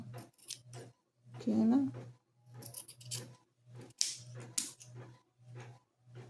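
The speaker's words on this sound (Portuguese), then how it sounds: "Depois eu vou cortar aqui, ó." Scissors snip through fabric for a headboard cover at close range, a few short cutting strokes scattered between and under a woman's speech while she sews.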